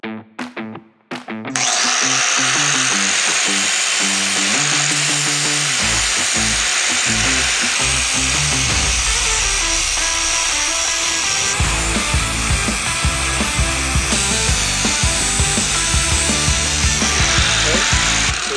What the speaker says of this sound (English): take that grinder, and we'll just grind this down so that it's all symmetrical and even